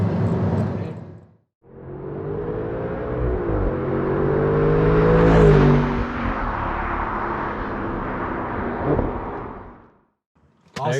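An Audi R8 with the R-Tronic transmission drives past after a door shuts, its engine note swelling and rising to a peak mid-pass, then holding steady before cutting off. A voice speaks briefly at the start.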